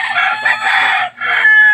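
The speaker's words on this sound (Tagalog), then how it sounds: "Medyo maingay yung mga manok natin." A rooster crows loudly and close, a long drawn-out call broken by a short pause before it trails off, with no other sounds.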